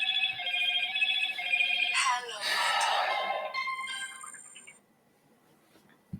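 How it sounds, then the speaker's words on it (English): A phone rings with a bright repeating electronic tone close to the microphone, then a burst of noisier sound and fading further tones before the ringing stops. "what is it with my phone? Anytime I stream, it just has to go off nonstop."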